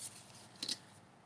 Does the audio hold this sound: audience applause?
no